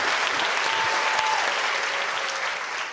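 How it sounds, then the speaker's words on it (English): A studio audience gives a sustained burst of applause, dense and loud clapping that holds steady and only begins to thin near the end, with a faint tone running briefly underneath. "Veer, big round of applause."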